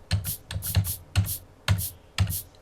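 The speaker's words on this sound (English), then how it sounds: "you can hear me hitting the keys" Computer keyboard keys struck one at a time close to a microphone, five sharp clacks at even half-second intervals, each with a bright click and a dull thud beneath.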